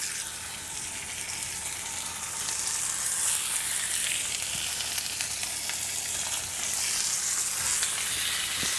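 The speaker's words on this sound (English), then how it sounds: "We got a drizzle of olive oil in our nice hot cast iron skillet" Salmon sears fleshy side down in olive oil in a very hot cast iron skillet, giving a loud, steady, crackling sizzle that carries unbroken throughout, with no voices.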